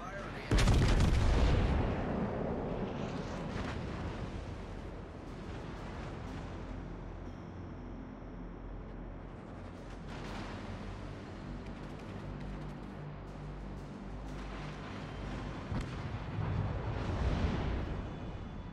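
Naval gunfire in World of Warships: Legends, a loud close boom at the start followed by rumbling distant blasts and a low steady drone, with further heavy shots near the end.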